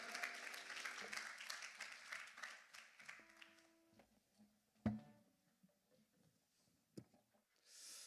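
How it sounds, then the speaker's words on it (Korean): A church high school youth group congregation at a winter retreat applauds after a prayer, the dense clapping loud for the first few seconds and then thinning out, with a few scattered claps and a sharp knock. "우리를 만나주신 하나님께 영광의 박수 올립니다"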